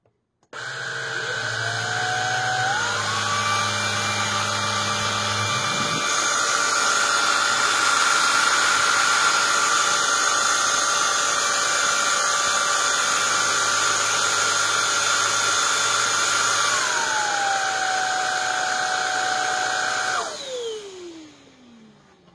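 A suction motor runs steadily on high power, a loud continuous whine with a rising pitch at start-up and a falling spin-down at the end, with a low hum briefly underneath at first.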